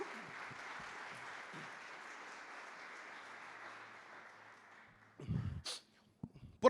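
A church congregation claps for the Lord in a steady, soft wash of applause that fades out after about five seconds, followed by a few brief, louder bumps and noises.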